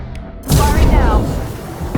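Weapon fire in Mass Effect 2 at the Collectors base: a sudden heavy boom erupts after a quiet moment and rumbles on, loud and close.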